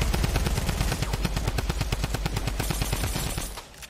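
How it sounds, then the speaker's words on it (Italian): Rapid automatic gunfire from an online shooter video game rattles in a dense, fast burst of evenly spaced shots that runs nearly four seconds before cutting off abruptly. "io sparo da sopra"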